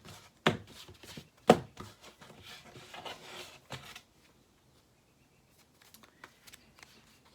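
Paper team selection slips being mixed up by hand, with two sharp close clacks followed by rustling and rubbing that fades to quiet, then a few small scattered taps near the end.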